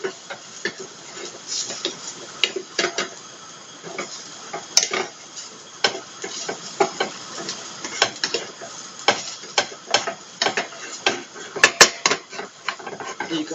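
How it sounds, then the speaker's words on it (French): Radishes fry in a pan with a constant faint hiss, broken by frequent sharp clicks and scraping taps of a utensil turning them, close and without speech. "Toujours dans notre ASMR friture de qualité."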